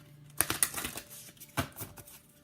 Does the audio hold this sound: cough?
no